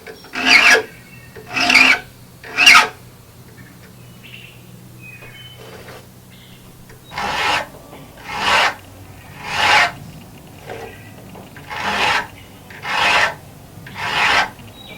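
Flat file rasping across the drag tooth of a chainsaw chain during sharpening, with three quick strokes, a pause, then six more steady, evenly spaced strokes, close and alone.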